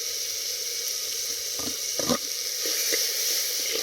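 Onions sizzle steadily in hot oil in a pan, a constant hiss with a few soft stirring knocks partway through.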